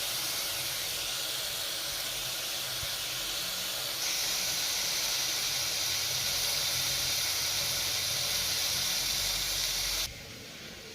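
Onions with salt fry in a pan with a loud, continuous hiss and sizzle that grows stronger partway through, then drops abruptly to a softer sizzle near the end, with no talking.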